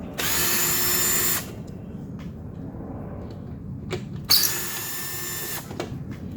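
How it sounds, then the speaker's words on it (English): A cordless power drill backs two Phillips head screws out of a tail light on a Trailblazer or Envoy, two separate bursts of whirring about a second long, with quiet handling sounds between them. "So we're just going to use our drill."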